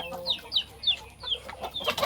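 Chickens clucking inside a shelter room built to keep them out of the rain, a quick run of short rhythmic clucks close by, fairly soft and without speech.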